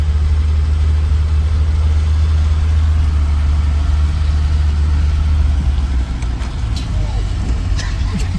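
Ford Pinto engine held at full throttle in second gear with a broken throttle cable, a loud steady low drone from inside the car running throughout, with a few faint knocks near the end.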